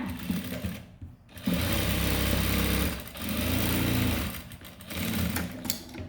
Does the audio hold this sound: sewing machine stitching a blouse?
yes